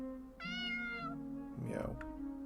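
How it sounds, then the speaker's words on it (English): A cat in the video game Tales Of The Black Forest gives one clear, drawn-out meow, followed by a brief burst of a voice speaking. "That's a cat."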